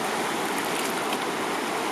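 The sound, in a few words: water sloshing in a gold pan in a stream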